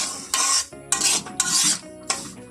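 Semolina (suji) is stirred while frying in a pan, giving four loud, close scraping rasps of a spoon across the pan bottom, each about half a second long and separated by short pauses.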